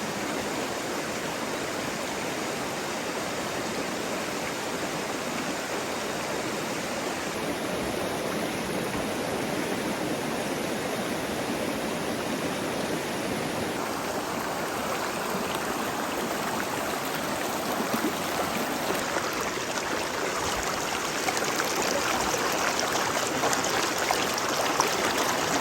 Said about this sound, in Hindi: ये जो दरिया का आवाज़ है ना, पानी के बहाव का